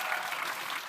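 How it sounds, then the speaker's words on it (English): An audience at a live talk in New York claps in a brief, dense burst of applause lasting under a second, fairly soft and steady. "Can we give a round of applause"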